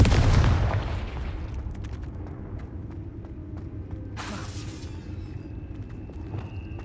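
Confringo blasting spell cast in the Hogwarts Legacy video game, a loud booming burst at the start that fades into a rumbling, mechanical tail with scattered clicks and a brief hiss midway.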